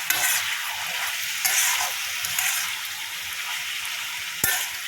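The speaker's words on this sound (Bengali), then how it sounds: "ক্যাপসিকাম, বেগুন আর পটল একসাথে ভাজা" Capsicum, brinjal and pointed gourd stir-fried together in a pan without salt, giving a continuous loud sizzle broken by a few sharp scraping stirs, with no talking.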